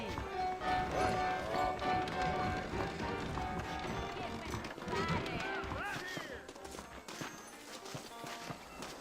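Horses galloping in the video game Red Dead Redemption, a busy rolling clatter of hooves under dense game music and ambience, with a voice speaking over parts of it.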